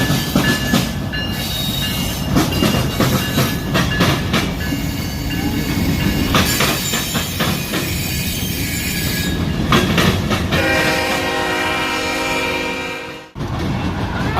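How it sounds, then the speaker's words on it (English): A train with a locomotive and a caboose rolls through a station, heard alone and loud throughout with steady rumbling, rhythmic wheel clatter and squealing wheels, fading briefly near the end. "on this train that has a engine or a locomotive, and behind it a caboose."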